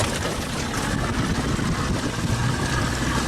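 A Johnson 60 hp outboard motor runs steadily on a boat, a continuous broadband engine drone with a low rumble and water wash, close and fairly loud throughout.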